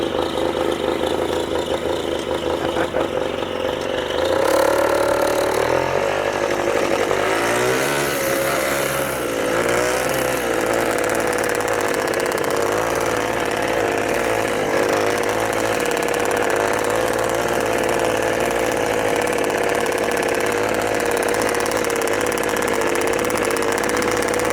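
A newly restored Rokon motorbike runs steadily on a ride in the high mountains of Utah, a loud, continuous mid-pitched engine drone that shifts in pitch with brief revs near the start.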